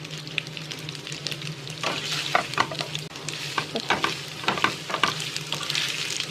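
Spicy chicken tossed with spring onion and coriander leaves in a hot pan, sizzling steadily while a spoon scrapes and stirs in quick clustered strokes, close and clear with no voices.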